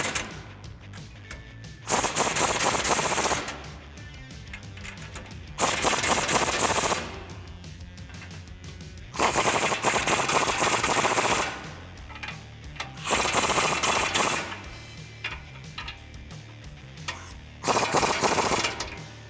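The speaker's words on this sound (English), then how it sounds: "This is probably the last time I'm gonna have easy access to those 21mm nuts with the impact gun." Impact gun snugging 21mm nuts on the bumper brackets of a 2018-2019 Ford F150 during a DV8 off-road front bumper install, fired in five loud, rattling bursts of about two seconds each, separated by short pauses.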